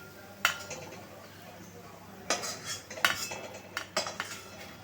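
A metal spatula scrapes and clinks against a pan while lifting fried onions, in a few sharp, scattered strokes, close by, over a quiet background hiss.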